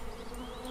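Bees buzz in a dense, continuous drone, close and steady through a very short moment.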